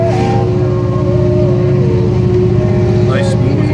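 A 1966 Chrysler New Yorker fitted with turbo mufflers runs with a steady, loud, deep engine drone throughout, heard from inside or near the car.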